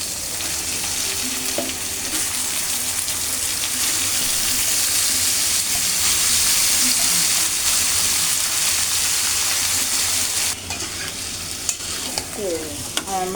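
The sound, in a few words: marinated chicken frying in browned spice paste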